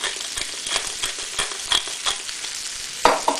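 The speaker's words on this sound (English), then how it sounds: "Quick stir around, get all those flavours on it." Sizzling duck breast seasoned with salt and black pepper stirred in a hot pan, a steady close frying hiss broken by scraping stirs and utensil clicks, with a sharper clatter near the end.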